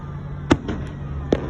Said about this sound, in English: We got a green firework.